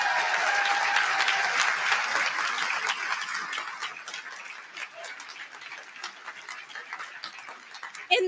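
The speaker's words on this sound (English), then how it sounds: "Let's give them a big round of applause today." A crowd of veterans and supporters at a political rally in Concord, New Hampshire applauds loudly and steadily, the clapping thinning slightly toward the end.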